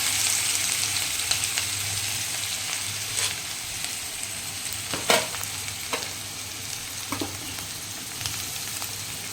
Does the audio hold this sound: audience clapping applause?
no